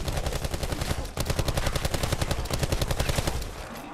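Rapid automatic gunfire from guns in a PS4 shooter video game, a dense, continuous burst of loud cracking shots at a fast steady rhythm with a brief pause partway, heard alone without speech.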